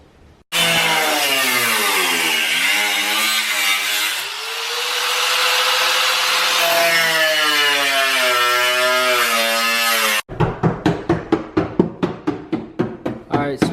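Power saw cutting through the side skirt panel of a Nissan 300ZX during a widebody install, a loud continuous whining grind with shifting pitch for about ten seconds, then a run of rapid rhythmic rasping strokes.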